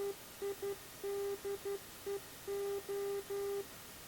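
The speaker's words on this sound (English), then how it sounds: "that's the sound of the transmitter keying to the correct ident" Vector aviation transmitter keying its ident through the unit's small speaker: a faint steady tone pulsing in short and long beeps like Morse code, set against a low background hiss.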